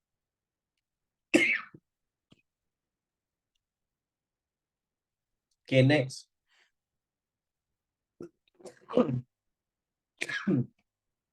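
Several separate coughs spaced apart by silence, close to the microphone, with a brief spoken phrase among them.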